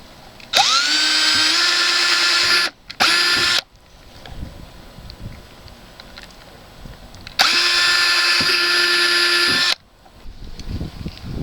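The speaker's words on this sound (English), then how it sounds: "I'm going to drill into that" A power drill whines at high speed in several bursts, two long runs and a short one, drilling into metal with a 1/4 inch bit while installing a trailer hitch on a Jeep Cherokee KL, with quieter workshop noise between them.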